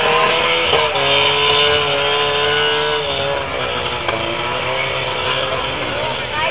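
Trabant stock cars race in a mass start on a dirt oval, their engines making a dense, continuous roar at steady loudness. An announcer talks excitedly over it throughout.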